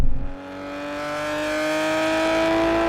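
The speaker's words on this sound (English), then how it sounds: "the thing I like the most is just the noise from this exhaust" Nissan GT-R R32 exhaust note heard from inside or near the car, a steady, rising engine drone with strong harmonics as the revs climb smoothly, loud and alone without talk.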